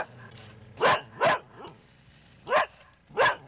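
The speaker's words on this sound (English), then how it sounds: "The neighbor's angry dog, chained too tight, alone in the dark." A chained dog barks alone in the dark: four sharp, loud barks in two spaced pairs, with a softer yelp between them.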